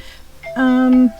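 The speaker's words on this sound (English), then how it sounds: "Sorry, that's my alarm." A single electronic alarm tone sounds for about half a second, clear and steady, after a brief moment of quiet room noise.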